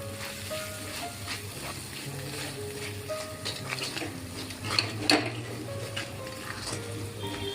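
Ground spices with salt and red chili being sautéed in a pan for a fenugreek and garlic dish: a soft, steady sizzle under repeated scraping and clinks of a spoon stirring against the metal.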